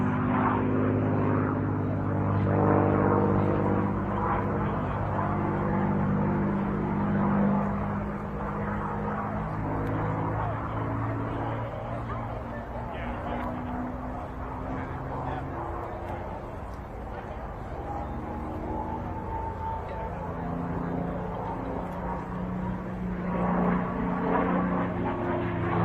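Engine drone of an aerobatic airplane flying a four-point roll and barrel roll at an outdoor air show in Utah, a steady loud propeller roar that shifts in pitch, with a commentator talking over it throughout.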